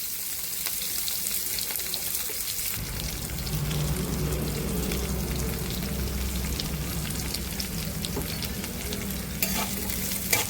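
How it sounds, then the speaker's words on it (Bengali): Onions hit hot oil with cumin seeds in a wok and start sizzling, a soft steady fry that thickens after a few seconds, with a spatula stirring and scraping through it. "পেঁয়াজ দিয়ে দিচ্ছি।"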